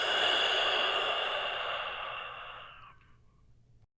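A single long, breathy exhalation from a breathing exercise during a yoga flow, close and airy, strongest at the start and gradually fading to silence.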